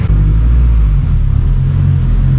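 A loud, close AWD Honda Civic Type R engine rumbles steadily after a misfire repair, with a deep, even drone and slight fluctuations as it pulls away under acceleration.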